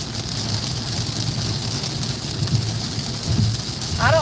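Hard rain pelts a vehicle driving on the interstate, a dense, steady hiss and patter over low road rumble, with a brief squeaky chirp near the end.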